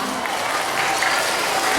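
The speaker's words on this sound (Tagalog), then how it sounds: "Bigyan natin siya ng malakas na palakpak." Dense, loud crowd applause for a kindergarten singing-contest winner at an elementary school language-month celebration, a continuous wash of many hands clapping close by.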